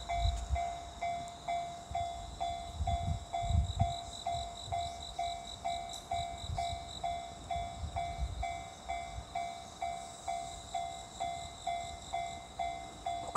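At a railway crossing at night, a warning bell dings in a fast, steady, regular pattern, fairly faint, with low rumbling from a passing train or wind beneath it and no talking.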